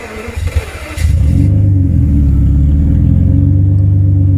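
A 1992 Mercedes 600SEL with its exhaust refitted turns over briefly, then fires and settles into a loud, steady, deep rumble that runs close by to the end.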